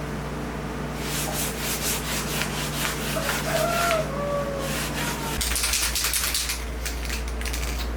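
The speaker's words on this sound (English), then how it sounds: "sprayed some water on my sandpaper, and I'll go get some more in a minute. This seems like it's taking that little roughness out of it" Wet sandpaper rubs by hand over a motorcycle's metal gas tank, making rapid rhythmic scratchy strokes in bursts over a low steady background hum, close to the listener, with no talk.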